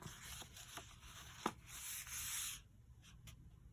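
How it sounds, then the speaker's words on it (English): Paper being scored at half-inch intervals for an accordion pocket in a folio journal, heard as faint, close rubbing strokes with a few soft taps, quiet and without talk. "I'm just looking at the 1/2 inch mark as to where to score it."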